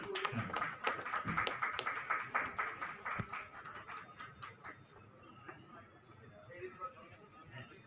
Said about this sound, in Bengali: আমরা একটু করতালি দিয়ে অভিনন্দিত করি।